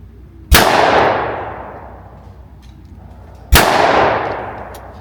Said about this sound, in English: Getting ready to shoot the Weatherby Orion Sporting 12 gauge